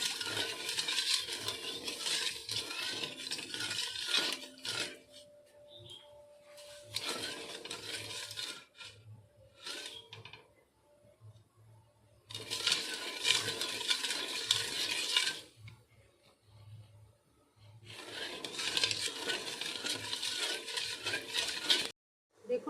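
A spoon scrapes and stirs sugar and water in a pan while making syrup, coming in bursts of close, gritty scraping separated by quieter gaps, with soft background sounds between.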